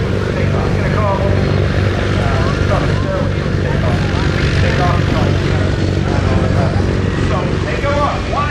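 Military jet at an airshow in Punta Gorda, set up for a short takeoff from a vertical-takeoff configuration, producing a loud, sustained engine roar with a pulsing, rumbling texture, while people talk over it.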